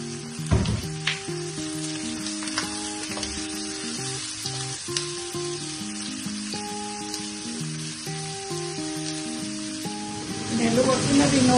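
Pork belly frying in a pan for Bicol express, a steady close sizzle and hiss throughout under background music, swelling louder near the end as it is stirred.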